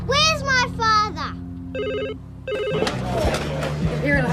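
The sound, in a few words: telephone ringing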